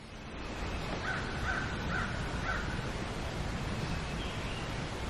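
Several crow caws ring out in a short run against a steady outdoor hiss, fairly distant, with a later faint call, at Big South Fork in Kentucky.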